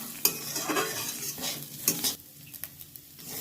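Onion softening in a frying pan, soft sizzle broken by several scraping stirs and light knocks of a spatula against the metal, close and fairly quiet, with no talk.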